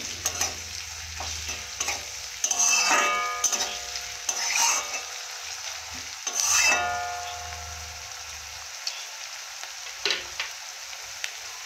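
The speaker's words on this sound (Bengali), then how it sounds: "লবণ দেওয়ার পর ভালো করে ভেজে নেব।" Potato pieces sizzle softly in a pan after salt goes in, with scraping stirs and clinking spatula taps against the pan coming in irregular bursts, close and fairly quiet with no voices.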